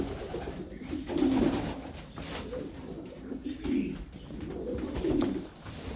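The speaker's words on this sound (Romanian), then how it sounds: "am decis să vă prezint porumbeii" Pigeons, including German drummer pigeons, coo in soft, low, rolling bursts inside a farm loft, several birds repeating close by amid faint rustling.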